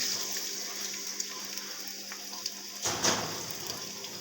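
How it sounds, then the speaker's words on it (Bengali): Chopped onions fried in oil for a dried-fish (shutki) dish: a steady, close hiss of hot oil that flares into a louder, fuller sizzle near the end. "প্রথমে ভেজে নিচ্ছি পেঁয়াজ কুচি দিয়ে দেবো তেল দিয়ে দিয়েছি"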